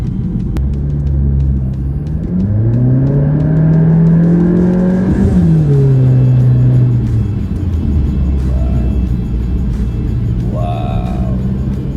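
A 2018 Honda Accord LX 10th Gen fitted with a Ktuner accelerates hard, its engine note climbing in pitch to a loud rev, then easing back to a low cruising rumble, heard from inside the car.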